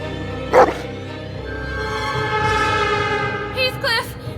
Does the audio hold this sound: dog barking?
yes